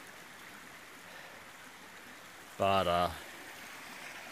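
A stream flows beside a small footbridge without side rails on a trail, making a soft, steady outdoor wash. A brief spoken word cuts in partway through.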